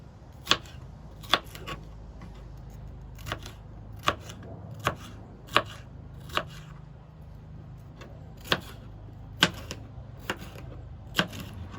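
A knife cutting bell peppers into strips on a board, each stroke a sharp, isolated chop in a loose, unhurried rhythm over a low background hum, with no talking.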